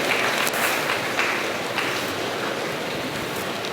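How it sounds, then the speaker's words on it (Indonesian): A crowd claps steadily, a dense even patter of many hands at moderate volume, with no voices over it. "Tepuk tangan untuk Talib Al-Kamal."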